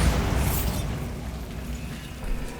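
Bombarda blasting-spell explosion in Hogwarts Legacy: a loud, dense roaring blast that stays heavy and rumbling throughout, with a slight swell near the end and no talk over it.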